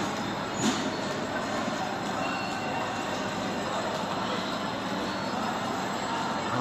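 The delayed Japeri express train on the SuperVia line approaches the platform at Central do Brasil station in Rio, giving a steady loud rumble with faint wheel squeal and a brief clank.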